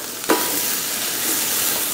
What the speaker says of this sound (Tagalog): Igisa lang natin ito ng mga 30 to 35 seconds.